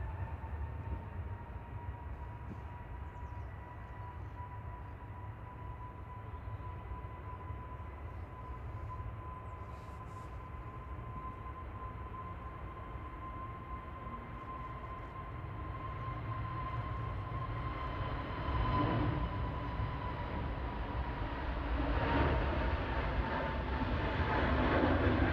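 A British Airways Airbus A320neo taking off at Manchester Airport, heard as a distant, steady broadband jet roar that slowly swells louder toward the end, with no voices.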